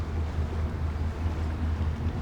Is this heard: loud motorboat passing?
yes